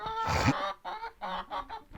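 Hens cluck and a black rooster gives a short call, several throaty clucks in a broken rhythm, close by.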